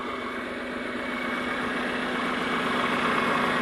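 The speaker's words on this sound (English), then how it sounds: "Hard to beat a John Deere 4020 tractor." A John Deere 4020 farm tractor engine idles steadily at close range, a constant low mechanical hum with an even throb that holds unchanged throughout, heard alone without talk.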